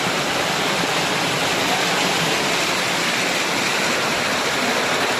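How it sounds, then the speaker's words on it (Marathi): A big waterfall deep in dense forest roars loudly and continuously close by, a thick steady wash of falling water with no pauses and nothing else audible above it. "धबधबा कसला मोठा धबधबा आहे. आवाज बघा कसा आला येतोय."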